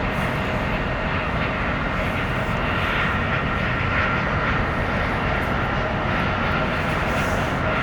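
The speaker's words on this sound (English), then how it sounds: "We got a 7879 Dreamliner. This one coming in from Newark, flight 2434." Boeing 787-9 Dreamliner arriving at LAX, a flight in from Newark: a loud, continuous jet engine roar with broad rushing noise holds steady throughout, close overhead.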